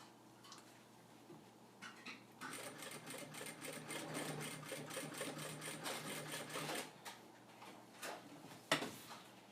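A sewing machine sews a backpack strap prototype, a close run of rapid, evenly spaced needle clacks lasting about four seconds, bracketed by a few isolated clicks and thumps.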